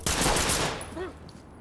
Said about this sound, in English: What am I getting shot by?